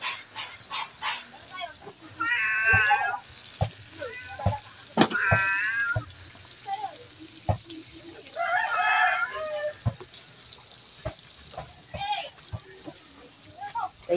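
A cat meows several times, long drawn-out cries separated by pauses, fairly close against a low background of household noise.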